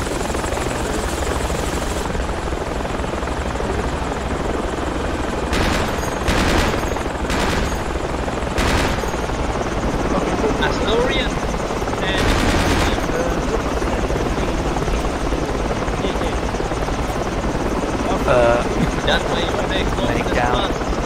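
Helicopter rotor in the Project Reality military video game, a constant loud thrum throughout, mixed with bursts of gunfire and voices talking over it.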